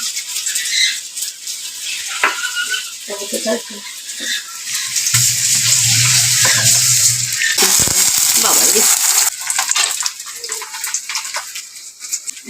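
Jute leaf fritters (pat shaker bora) frying in a pan, a hiss that swells into loud, steady sizzling for several seconds, with scattered clatter and some talk around it.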